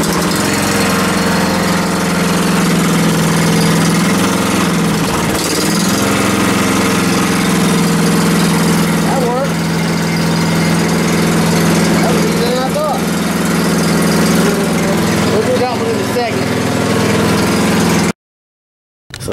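A snow blower engine runs close and loud with a steady, rough drone, its revs rising and dipping briefly as it is given gas, before cutting off abruptly near the end.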